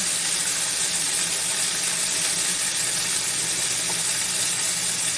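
Burgers sizzle in a pan on a stovetop with a continuous, even, close crackling hiss, no voices over it.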